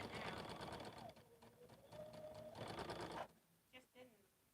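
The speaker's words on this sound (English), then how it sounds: "Stitching from the other end now." A sewing machine stitches a quilt with a steady, fast buzz that pauses briefly and resumes, then stops; a few soft sounds follow in the quiet.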